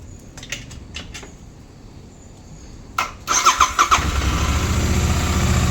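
A Royal Enfield GT 650 motorcycle, not started for many days, gets a few clicks and cranking bursts, then catches and fires into a loud, rumbling idle that holds steady to the end.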